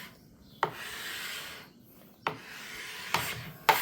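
A hand plane with a freshly sharpened, re-beveled cutter shaves along an uneven wooden board from an heirloom cradle, giving four close rasping strokes, each starting with a sharp bite and trailing into a steady scrape.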